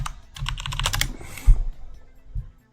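Rapid clacking of a computer keyboard being typed on, including one with a malfunctioning D key, close and fairly loud, in quick irregular bursts that thin out near the end.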